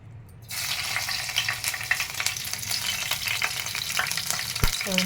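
Green chillies, chana dal and curry leaves drop into hot oil and fry with a sudden loud sizzle that continues as a dense, steady crackle close by, with occasional clinks of a utensil.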